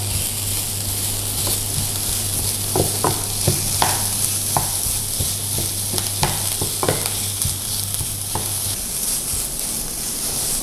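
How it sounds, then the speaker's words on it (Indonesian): Minced meat stir-fries in a hot pan for meat croquettes, with a constant loud sizzle and repeated scraping clicks of a spatula stirring, close up and without talk. "Ini kita tumis dulu ya sampai dagingnya berubah warna"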